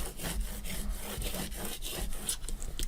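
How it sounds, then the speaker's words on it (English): Rapid, rhythmic scraping strokes of a squeegee pressing cardstock onto a cutting mat, repeated dry rubbing passes at close range with no talk. "turn it over, squeegee it on"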